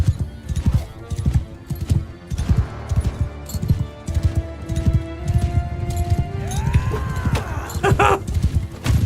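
Horses gallop in Mount & Blade 2 Bannerlord, hooves drumming in a fast steady clip-clop with a brief neigh and metallic clinks near the end, no talk over it.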